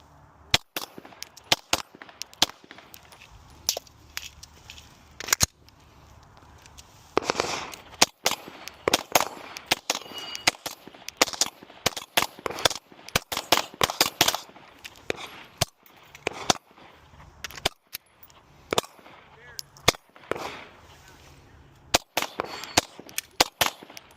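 Gunshots ring out at a shooting range as a handgun fires doubles, loud sharp reports arriving in quick pairs and clusters with brief gaps between strings, close and dominant.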